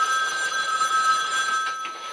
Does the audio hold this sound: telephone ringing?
yes